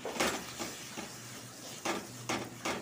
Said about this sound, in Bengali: দইটা দিয়ে আরও ভালো করে কষিয়ে নেব।